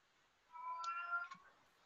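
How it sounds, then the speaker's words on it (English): A house cat gives a single drawn-out meow lasting about a second, soft and fairly close, in an otherwise quiet room. "Oh, is that a cat? Do you have a cat?"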